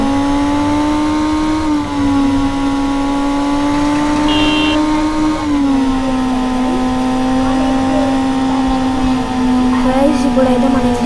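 Motorcycle engine in a street-driving video game, a steady droning hum that rises slightly and dips around mid-clip, loud and continuous with no talk over it.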